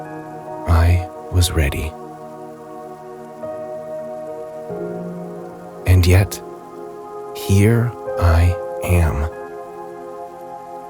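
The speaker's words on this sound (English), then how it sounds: "feeling the rain on my skin, listening to the soft hum of the world around me" Night rain falling on a porch, a soft steady patter under a calm voice speaking in short phrases, with a low sustained tonal hum running throughout.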